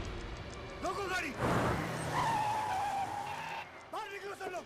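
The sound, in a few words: car braking with tires skidding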